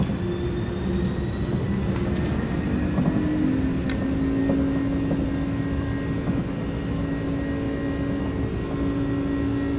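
The jet engines of an iniBuilds A300 airliner spool to takeoff thrust in a flight simulator, a steady loud roar with sustained tonal hums throughout, no talk.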